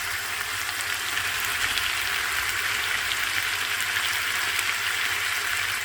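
Finely chopped potatoes sizzle in a cooking mutton mixture, a steady, close, bright hiss of frying that holds evenly throughout without any talking.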